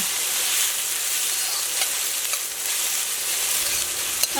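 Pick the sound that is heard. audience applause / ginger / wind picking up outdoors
ginger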